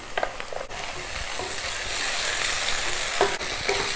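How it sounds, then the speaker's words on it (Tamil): Vegetables and ground masala paste frying in a pan for vegetable saagu, giving a dense, continuous loud sizzle with a few spatula knocks and scrapes, heard up close without any voices. "கொஞ்சம் நல்ல வாசனை வர மாதிரி ஃப்ரை பண்ணணும்"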